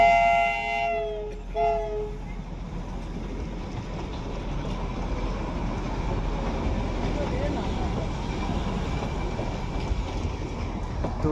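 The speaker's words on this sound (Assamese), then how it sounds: "টয় ট্ৰেইন আহি আছে" The three-coach Darjeeling toy train at Batasia Loop opens with a loud multi-tone horn blast, then rolls past as a steady, rumbling clatter of wheels on the narrow-gauge track that carries on to the end.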